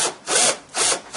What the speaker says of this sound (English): drill a small hole just to the right